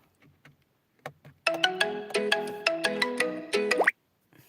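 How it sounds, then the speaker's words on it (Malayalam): A phone ringtone for an incoming call sounds inside a car, playing a bright melodic run of tones for about two and a half seconds. It is close and clear, with no talk over it. "അതിൻ്റെ ഇടയ്ക്ക് ഓരോ ഫോൺ കോളുകൾ വന്ന് ലൈവിനെ നമ്മളെ ലൈവ് ഡിസ്റ്റർബ് ചെയ്യുന്നു"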